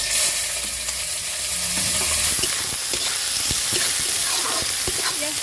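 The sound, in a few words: chopped onion frying in a pan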